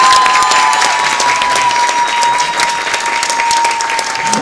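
A studio audience at a Turkish talk show applauds steadily throughout, a dense close wash of clapping with no talk over it.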